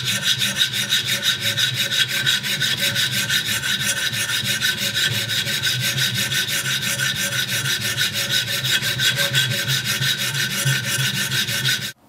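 Thinning scissors being sharpened on a 500-grit diamond plate, a steady rapid back-and-forth rasping of steel on abrasive that continues close and loud for about twelve seconds and then stops abruptly.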